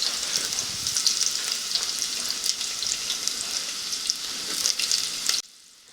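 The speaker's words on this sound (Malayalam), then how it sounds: "വെളിച്ചെണ്ണ ചൂടായതിനു ശേഷം അതിലേക്ക് നമ്മുടെ ഉള്ളി ചേർക്കാം" Onions frying in coconut oil inside a five-litre pressure cooker, giving a steady, dense sizzle and crackle up close with scattered louder pops, then dropping away abruptly near the end.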